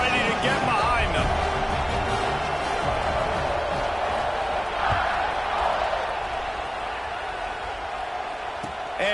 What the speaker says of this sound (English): this crowd now ready to get behind them